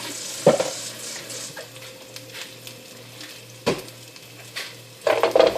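Mushrooms and onion are stirred in a frying pan with a soft continuous sizzle and a few scraping stirs, the loudest and busiest of them at the end.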